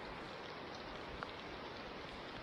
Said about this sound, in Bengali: এখন মোটামুটি সব দিকেই বৃষ্টি পড়তেছে